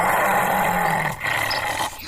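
A dog growls low and continuously from close by, a steady rumbling snarl that runs the full length with a brief dip in the middle and no talk. It fits the menacing beast of a village horror tale.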